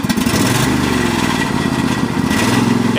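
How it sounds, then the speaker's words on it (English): The engine of an MTD lawn tractor with worn deck spindles and belts runs steadily and loudly up close, a continuous rough mechanical drone with no pauses. "Engine sounds great still."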